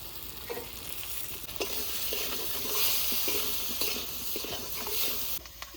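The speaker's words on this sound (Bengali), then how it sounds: "এবার আলু ভালো করে ভেজে নেব" Potatoes seasoned with salt and turmeric fry in oil, crackling in a steady, fairly close sizzle broken by repeated stirring scrapes and taps, with no speech.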